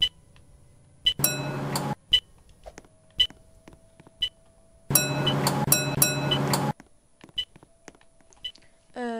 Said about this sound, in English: Shall I scan my card? Beep.